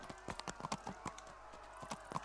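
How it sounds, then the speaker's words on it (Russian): Horse hooves clop at a steady riding gait in the video game Kingdom Come: Deliverance, with a quick run of close, moderately faint footfalls over a low ambient hum. "максимально неудобно здесь езда на лошади реализована"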